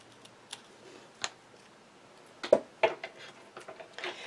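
Card stock being trimmed for a pop-up card with a grassy tab: a few crisp, close ticks and snips, sparse and irregular, with quiet gaps and a small cluster of sharper cuts near the end.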